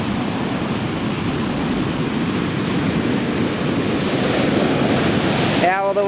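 Ocean surf at Centerville Beach makes a loud, continuous roar of breaking and rushing waves, with wind buffeting the microphone. A voice is heard faintly near the end.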